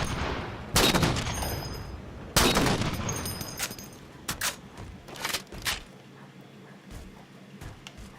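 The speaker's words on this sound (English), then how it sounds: "Who's sniping me?" Sniper rifle gunfire in a shooter video game: two loud, sharp cracks with decaying tails, then several quicker, fainter shots, set against a low background hum.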